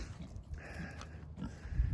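Several pigs grunt in low, rough bursts close by while being moved between pens on a farm in winter, with shuffling and background noise throughout and a louder grunt near the end.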